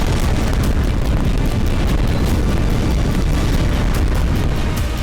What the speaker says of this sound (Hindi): जिस बम से महाविनाश होता है, जिस बम से बेहिसाब बर्बादी होती है